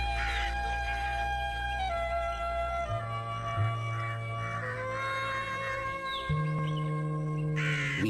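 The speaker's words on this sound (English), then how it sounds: "the sound of the crows attracts us to a carcass" Crows caw repeatedly around a carcass in a tiger forest, harsh calls overlapping near and far in an steady outdoor chorus with no talk.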